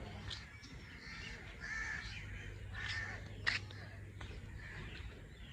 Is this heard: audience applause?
no